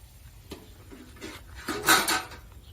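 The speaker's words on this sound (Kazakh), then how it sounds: "Дәл қазір қайнап жатқан суымызға, қазанымызға жаңағы тарымды осылай сылғытып салып жіберемін" Millet grains slide from a container into boiling water in a cauldron, with a few faint taps and scrapes before a brief, louder rushing clatter near the middle.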